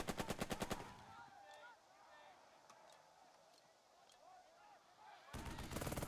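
Short bursts of rapid machine gun fire in the World War II tactics video game Burden of Command, loud rattling volleys at the start and end with quieter battle noise and distant shots in between.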